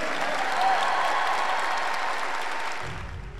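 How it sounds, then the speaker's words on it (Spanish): Audience applause at a Honduran political rally for a youth and parents program, a steady, dense wash of clapping that fades slightly toward the end. "¡Un aplauso para los Padres 2020!"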